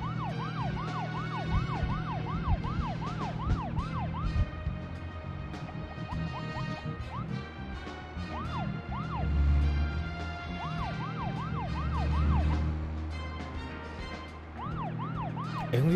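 A car siren wails in the Deadly Premonition video game, repeated rising-and-falling sweeps that cut in and out over a continuous engine drone as the vehicle drives.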